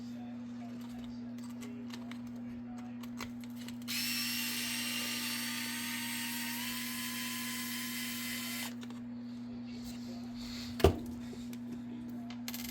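Power tool backing screws out of aftermarket shock absorbers, a steady whirring run of about five seconds over a constant low hum, followed later by a sharp single knock.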